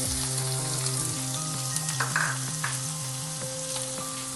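Onions tossed into hot oil already crackling with mustard seeds and urad dal: a loud, close, continuous sizzle with light crackles, and steady background music running beneath.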